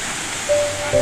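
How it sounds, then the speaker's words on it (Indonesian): A 15 to 20 metre waterfall at Sepaku gives a steady broadband rush of falling water, with a thin tonal whine appearing partway through and no voices. "Air terjun pertama yang kita kunjungi."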